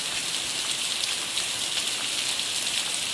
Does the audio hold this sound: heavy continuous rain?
yes